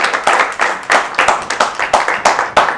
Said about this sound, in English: A round of applause for her one more time.